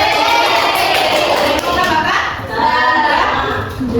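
A school class claps hands together during a micro-teaching lesson in Surabaya, a busy burst of mixed claps with children's voices and chatter running underneath, fading slightly toward the end.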